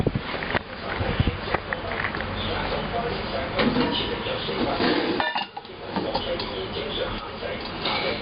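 Roasted peanuts pour out of an oven's rotating rotisserie cage in a dense, crisp rattling clatter that runs loud and steady, with a brief lull near the end before it resumes.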